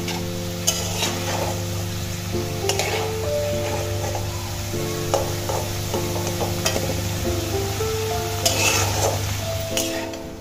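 Potatoes frying in hot oil give a continuous close sizzle, broken by repeated scrapes and clinks of a spatula stirring them in the pan.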